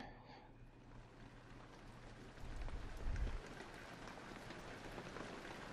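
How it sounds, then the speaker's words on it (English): Soft, steady patter of raindrops in the video game Penumbra: Necrologue, a faint continuous hiss with a slightly louder swell partway through. "Oh, hear those sweet, sweet raindrops."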